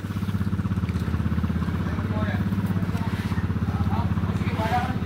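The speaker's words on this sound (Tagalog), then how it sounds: "para mapaandar yung pinahiram na makina" A borrowed engine runs steadily with a fast, even putter, close by and moderately loud, holding a constant idle-like rhythm with no pauses.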